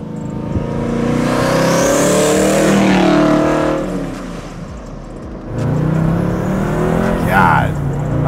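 Kevin Hart's twin-turbo Camaro "Bad News" pulls hard under boost, the engine roaring up loudly, easing off briefly, then surging again in a second strong burst.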